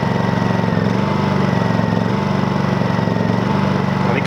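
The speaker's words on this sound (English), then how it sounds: "So starting the generator is a simple 1, 2, 3." A portable generator runs in eco mode: a loud, steady engine drone with an even mechanical throb throughout, close by and with no voices.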